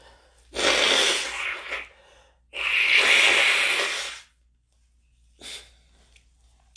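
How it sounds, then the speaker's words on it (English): A person blows their nose in two long, loud, close bursts of breathy honking air, followed by a short softer snort, with quiet pauses between. "So I'm gonna blow my nose."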